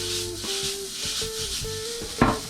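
Stuffed mushroom filling being mixed with cheese, a soft continuous rubbing and scraping with a few rhythmic strokes and one louder scrape near the end, close and alone.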